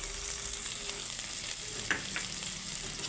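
Turmeric, chili and coriander-cumin powders fry in a pan for a vegetarian okra curry, giving a quiet, steady sizzle with a faint clink or scrape near the middle and no talk.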